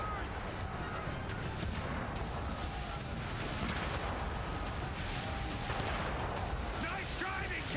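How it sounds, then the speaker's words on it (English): Mortar and cannon fire from a naval battle in Assassin's Creed III: a dense, constant roar of booming blasts and crackling gunfire, loud and continuous, with a voice speaking faintly under the din. "But their mortars can hit anywhere within this."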